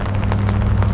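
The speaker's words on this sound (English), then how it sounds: "The rain's even starting to drip off my umbrella." Rain dripping and pattering off an umbrella outdoors on a pine-covered hill in early evening, a steady close patter with scattered drops over a low rumbling background, no talking.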